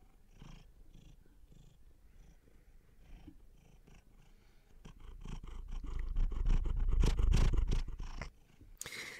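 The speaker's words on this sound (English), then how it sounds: "get the microphone a little bit closer just so you can hear a little bit of this purring" Close-up cat purring, a soft rumbling that grows louder and denser toward the end, with faint rustling throughout.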